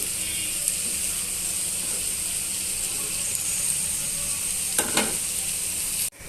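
Chopped beans and potato pieces sizzle steadily in hot masala in a pan, a loud continuous frying hiss with a few brief scraping stirs near the end.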